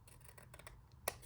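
Scissors snip through A4 paper in a few quick, quiet cuts, ending in one sharper snip; close and soft, with no talking.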